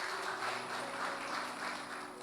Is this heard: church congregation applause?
yes